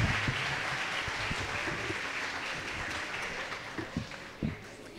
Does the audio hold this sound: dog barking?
no